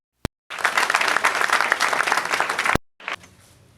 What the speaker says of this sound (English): Another clap for her.